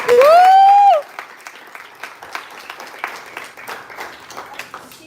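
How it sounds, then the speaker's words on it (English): Scattered clapping from a small audience at a talk, fairly faint and thin, with a short sung or whistled tone at the start before the claps carry on unevenly. "I think this round of applause is definitely for you"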